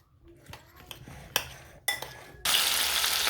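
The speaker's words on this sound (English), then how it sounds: "heat my pan with some reasonable amount of oil to get frying" A pan of oil heats for frying potatoes: a few metal clinks and scrapes of a utensil, then a steady, fairly loud hissing sizzle takes over.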